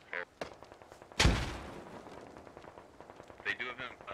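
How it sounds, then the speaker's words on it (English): Gunfire in the military shooter SquadOps: one loud heavy shot booms up mid-clip over scattered quieter pops and crackles of distant shooting, with talk running underneath. "Guys, I'm taking fire right now."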